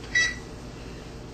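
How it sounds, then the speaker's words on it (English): A kitchen oven timer goes off at the end of a 17-minute home-made pizza bake, giving one short high beep over low steady room noise. "The oven just went off, said it's been 17 minutes"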